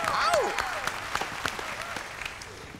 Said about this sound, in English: Nice round of applause for Miss Jennifer Higgins.